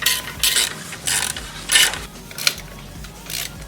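A ratchet tightens 5mm bolts on a stunt bar for a 2022 Kawasaki Z125, giving repeated bursts of quick clicking roughly every half second to second, loud and close, with no talk.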